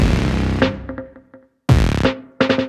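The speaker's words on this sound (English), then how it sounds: "We're gonna make some heavy, aggressive meme patches with the Nord drum today." Heavy, aggressive drum patch on a Nord Drum 3P, heard as punchy synthesized hits with tonal, ringing tails, some decaying into short stuttered repeats, followed by a loud burst and a fast cluster of hits; close and prominent.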